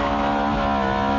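A Ferrari F430 Spider engine drones loud and close at steady high revs while driving, a brief continuous tonal roar with no break or speech.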